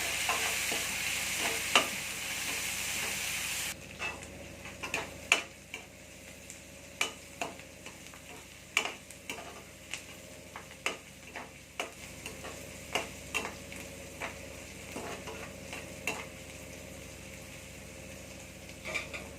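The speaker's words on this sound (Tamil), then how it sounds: "இந்த கருவேப்பிலை கொத்தமல்லி எல்லாத்தையும் சேர்த்துக்கலாம் சேர்த்து நல்லா வதக்கிக்கலாம்" Curry leaves, coriander and green chillies being sautéed for egg rice: a soft sizzle under sharp, irregular spoon-against-pan scrapes and knocks, fairly quiet and close, without speech.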